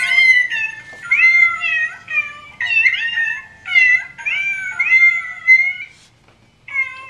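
Several cats meow over and over, close and clear, in overlapping high cries with short pauses between bursts and no talking.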